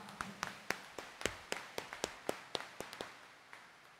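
Sharp, distinct claps ring out in a church during a Catholic mass, about fifteen separate claps at an uneven pace over four seconds, fairly faint, with no talking.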